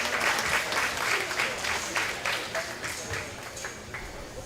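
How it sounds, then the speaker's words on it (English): Spectators at a county fair hog show clap for the exhibitors, a moderate, slightly distant patter of applause that rises and eases in uneven waves, with faint voices in the background. "Let's give those exhibitors a nice round of applause."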